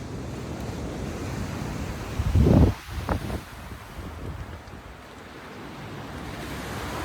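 Sea waves surge and wash onto a Spanish beach after a storm, a steady roar of surf mixed with wind noise on the microphone, and one louder crash in the middle.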